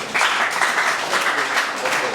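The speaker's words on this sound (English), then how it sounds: "Can we clap for them?" An audience at a farmers' training session in Sagamu, Ogun State, applauds the farmers with steady, dense clapping that starts abruptly and continues throughout, with some voices mixed in.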